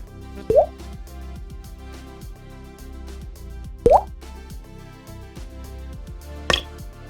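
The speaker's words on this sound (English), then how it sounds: "the water drop on the ground is really loud" Three water drips in a video game under development plop one by one at slow, uneven intervals, each a short bright drop over a steady low ambient hum, with the last one slightly thinner.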